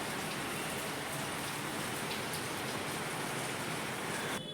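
Steady rain falls without a break, a soft, even hiss of drops that goes on at the same faint level throughout.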